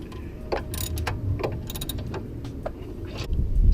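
A ratchet tightens the bolts of a car's brake caliper bracket during a brake change, giving short irregular clicking bursts over a low background rumble, close by with no voices.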